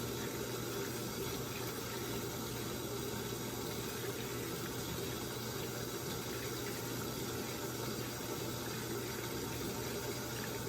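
A Samsung WA50R5200AW top-load washer fills its drum on the deep fill setting, giving a steady, even rush of water with a low hum. The sound continues unchanged throughout, with no voices.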